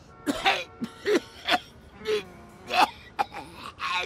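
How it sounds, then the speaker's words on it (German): Several separate rough, throaty coughs from a character in the video game Blacksad: Under the Skin, spaced irregularly across a few seconds, some sounding like throat clearing, with no talk over them. "Schlimmer Husten, hm?"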